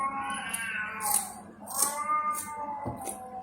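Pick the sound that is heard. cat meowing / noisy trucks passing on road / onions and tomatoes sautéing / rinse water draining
cat meowing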